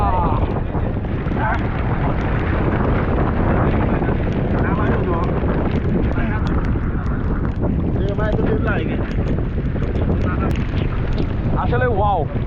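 A motorised country boat chugs along the Matamuhuri river in rain, its steady engine drone and wind buffeting the microphone throughout, with people talking over it.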